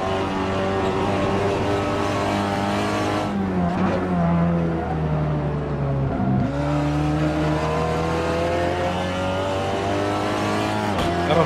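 Seat Leon TCR touring race car in Assetto Corsa at Brands Hatch Indy, its engine droning loud and steady, pitch dipping under braking into a corner, then climbing again as it accelerates, with no voices over it.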